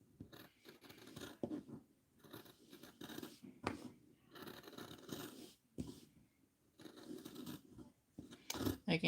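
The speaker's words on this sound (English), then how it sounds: "I do like hearing my scissors go snip, snip, snip on fabric" Repeated snipping and crunching of scissors cutting through fabric, close up, in irregular bursts with short pauses and no talking.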